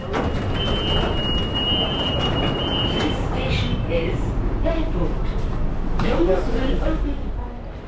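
Loud, steady rumble of a metro train in motion, with a long high whine early on and brief clatter and voices later.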